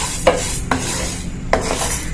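Parboiled rice dry-roasts in a pan while a spoon stirs it, giving a continuous close gritty rustle with a light sizzle and a few sharper scraping strokes against the metal, with no talking.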